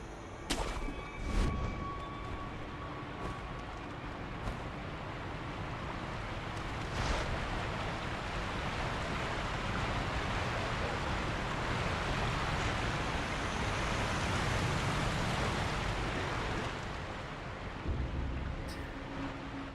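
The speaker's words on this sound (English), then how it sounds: "The noise of the roaring waterfall is deafening." A roaring waterfall in Sekiro: Shadows Die Twice, a broad, continuous rushing roar that fills the whole stretch, steady and loud, with a few faint thuds and clicks layered on top.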